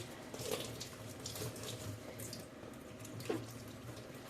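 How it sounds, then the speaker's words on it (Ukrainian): Potatoes scrubbed with a kitchen sponge under running tap water in a kitchen sink, a steady close wash of flowing water with soft rubbing swishes and a few louder scrub strokes, no talking. "я показую, що мию. Ось так, добре. Шурую такою кухонною губкою."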